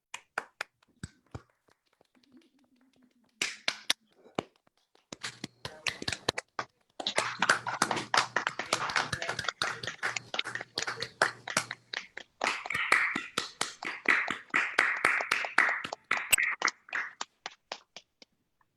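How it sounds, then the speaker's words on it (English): Audience members on a video call applaud for theatre artists after an evening of one-act plays, with sparse scattered claps building into uneven clapping from several people, some snapping and brief noises mixed in. "we'll do a big round of applause for the artists involved in both Lowndes and Walk the Line"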